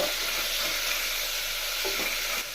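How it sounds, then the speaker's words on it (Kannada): Chopped ridge gourd frying in a pan, a loud, dense sizzle that holds steady and close the whole time, dropping slightly at the very end; no voices. "ಹಸಿ ವಾಸನೆ ಹೋಗೋವರೆಗೂ ಚೆನ್ನಾಗಿ ಫ್ರೈ ಮಾಡ್ಕೋಬೇಕು ಮೊದಲು"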